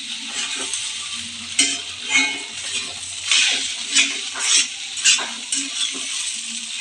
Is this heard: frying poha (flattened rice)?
yes